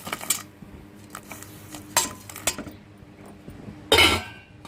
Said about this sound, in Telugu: గెంటి పెట్టి బాగా కలిదిప్పుకుందాం